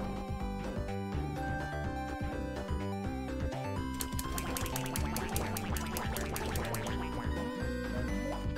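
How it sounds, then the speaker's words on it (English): Ducks in the video game Duck Game quack repeatedly over busy, steady game music that fills the whole stretch. "pretty cute when he quacks"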